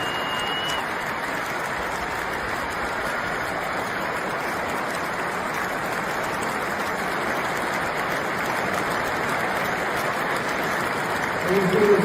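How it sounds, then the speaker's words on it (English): Anfield crowd at a Liverpool vs Brighton match roaring and applauding as Salah comes onto the pitch, a dense, steady wash of cheering that swells slightly at the end. "this is just a clip of how the crowd responded to Salah coming onto the pitch"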